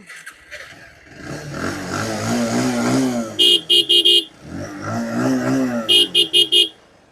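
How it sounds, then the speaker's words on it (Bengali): A used Bajaj Pulsar motorcycle engine in good condition runs and revs in rising and falling swells, with two clusters of short, sharp bursts, fairly close and loud. "একেবারে ইঞ্জিনের সাউন্ডও আলহামদুলিল্লাহ অনেক ভালো কন্ডিশন"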